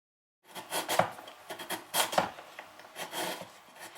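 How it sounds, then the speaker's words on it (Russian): A carrot is grated on a small kitchen grater for a vegetable noodle salad, giving a run of close, rhythmic rasping strokes, about a dozen in all, each with a soft scrape. No one speaks. "Теперь морковку также натираем на этой терочке."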